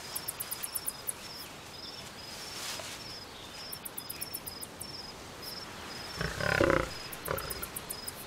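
Lions roar in the Botswana savanna, a short deep burst of calls rising near the end over a steady chirping of crickets and insects, with no voices.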